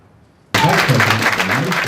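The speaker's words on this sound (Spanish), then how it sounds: "Han sido los únicos aplausos que ha recibido en su viaje de 4 horas a Groenlandia" Audience applause at a gathering during a visit to Greenland bursts in abruptly after half a second of silence and carries on as a dense, steady wash of clapping to the end.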